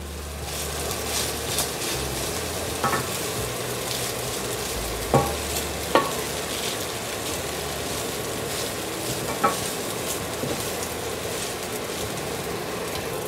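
Basmati rice stir-frying in a hot pan for fried rice, giving a steady, close, hissing sizzle throughout, broken by a few sharp spatula clicks and scrapes against the pan, with no voices.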